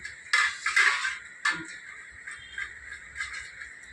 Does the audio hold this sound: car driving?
no